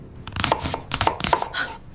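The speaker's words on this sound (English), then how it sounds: "I cut an onion" A knife cuts an onion during home lunch preparation. Several crisp, close chopping knocks come in an uneven rhythm against a board, with no talk.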